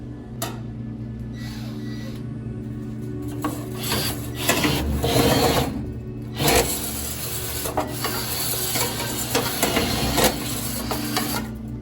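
Dryer lint traps being cleaned by hand, a close scraping and rubbing with rattling clatter over a steady background hum, the scraping growing busier in bursts, without talk.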